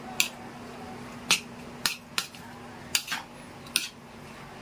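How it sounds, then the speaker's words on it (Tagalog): A spoon stirs a vinegar mixture in a bowl, giving about seven sharp, separate clinks against the bowl at uneven intervals over a quiet background. "Pagtiyagaan lang nating haluin hanggang sa kumatas."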